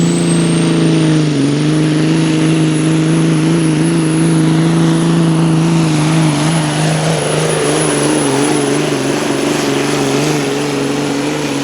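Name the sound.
pulling truck Inconvenience, 998 cubic inch V8 Mack engine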